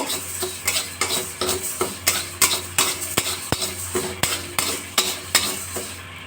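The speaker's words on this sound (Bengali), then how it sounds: "ডালগুলো লাল করে ভালো করে ভেজে নেব" Lentils fry in a pan with repeated sharp scrapes and clinks of a spoon against metal, a steady rhythmic stirring over a low sizzle.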